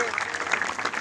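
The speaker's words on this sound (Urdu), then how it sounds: "ان کے لیے تالیاں ہونی چاہیے" A crowd claps at a deforestation seminar held at Govt High School Chapri in District Mianwali. The applause is dense and steady throughout, with a voice partly over it.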